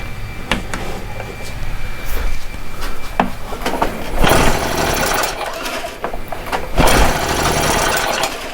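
Stihl BR800 backpack blower engine at full throttle with the choke off, a loud, rough mechanical running sound with a rattling, uneven rhythm and several surges in level.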